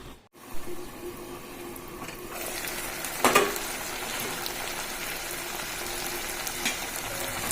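Rui fish head curry cooks in a covered pan, giving a soft steady sizzle and bubbling with a brief clatter of stirring or a lid a few seconds in.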